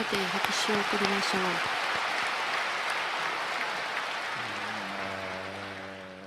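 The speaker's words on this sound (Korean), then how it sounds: "감사하는 마음으로 한번 박수를 하겠습니다." A church congregation applauds steadily for several seconds, a broad wash of clapping while a voice speaks over the start and music comes in at the end.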